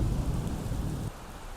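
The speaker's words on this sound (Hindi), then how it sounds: "बारिश बहुत तेज हो रही है बाहर" Dense, heavy rain hisses steadily outside in Krabi, Thailand, with a deep low rumble that drops away partway through, leaving the rain alone.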